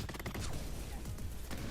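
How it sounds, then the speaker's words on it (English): Rapid volley of gunfire from Borderlands 3, with shots striking the player character in a dense, continuous burst of overlapping loud impacts throughout. "If you heard all those gunshots hitting me at the same time"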